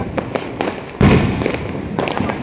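Diwali firecrackers in Perambur pop in quick bursts, with one louder, longer crackling explosion in the middle and more scattered bangs after, close and loud.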